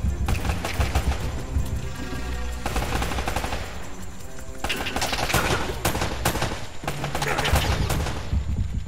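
Rapid gunfire from the Uncharted video game crackles in dense, overlapping bursts with machine-gun rattles, loud and nearly continuous throughout, with no talking.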